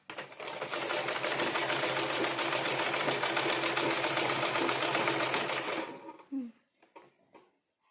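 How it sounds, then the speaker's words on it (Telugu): An electric sewing machine stitching piping onto a blouse runs in one continuous, even, rapid whirr up close for about six seconds, then stops, leaving a few soft clicks and handling sounds. "స్లోగా కుట్టుకోవాలి మనం."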